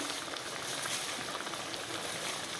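Carrot halwa with khoya roasting in a pan on medium-low heat gives a steady, dense bubbling sizzle, close and even throughout with no talk.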